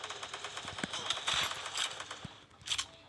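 An M500 shotgun fires inside a video game, giving a few sharp, close reports among clattery, rapid in-game effects and light background noise.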